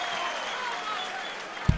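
A crowd at the 2014 Darts World Championship applauds in a steady, sustained wash of clapping and cheering, distant and even, with a brief thump near the end.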